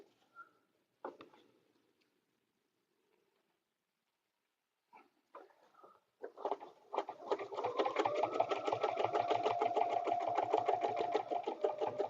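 A sewing machine stitching paper-pieced fabric: after a few quiet handling clicks and rustles, a steady, fast mechanical whir of needle strokes runs continuously to the end.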